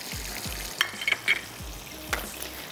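Chicken broast pieces seasoned with salt and black pepper frying in a kadai of oil, a steady soft sizzle with occasional spoon clinks and stirring bumps, close up and without talk.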